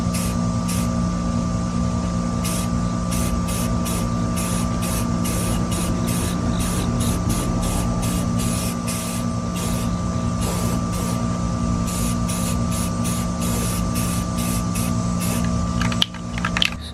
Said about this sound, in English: Then I'm just going to use Rust-Oleum sand white and give them 2 coats.